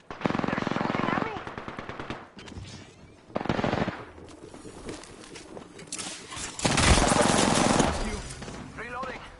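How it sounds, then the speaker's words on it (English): Rapid automatic gunfire from Apex Legends on PS4 rattles in several loud bursts separated by quieter gaps, with a last long burst near the end and sporadic voice chatter in between. "They're shooting at me!"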